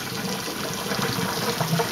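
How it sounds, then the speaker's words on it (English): Parboiled spare rib water poured out of a pot beside a colander, a steady gushing splash of liquid without pause. "I kind of pour outside the colander first so some of the gunky can flow out"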